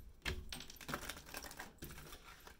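Soft, quick riffling and flicking of shuffled cards, a papery clatter in uneven bursts, close by and fairly quiet, with no talking.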